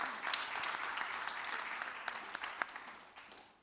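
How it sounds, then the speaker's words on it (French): Audience clapping for students at a French-language Canadian spelling bee, a steady patter of many hands that gradually thins toward the end, with no talking. "On les applaudit bien fort pour leur bon travail."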